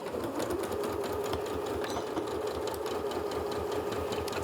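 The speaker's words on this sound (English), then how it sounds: "I'm using the stop-start button here, not the foot pedal." A Janome sewing machine, run by its stop-start button, stitches a fabric face mask with a steady, continuous, fast mechanical whir and chatter at close range with no talking.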